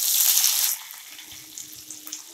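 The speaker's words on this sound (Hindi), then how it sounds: "अब इस मिर्च को हम तेल में छोड़ देंगे।" Chopped green chilies hit hot oil for an instant green chili pickle, giving a loud bright hiss and crackle for under a second that quickly drops to a quieter, steady sizzle with light popping.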